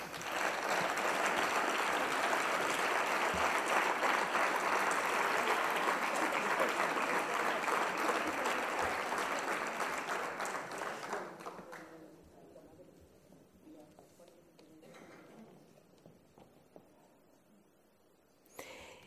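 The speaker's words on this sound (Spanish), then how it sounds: "Un fuerte aplauso" An awards ceremony crowd applauds loudly and steadily for about ten seconds, then the clapping fades away into quiet room noise with a few scattered claps.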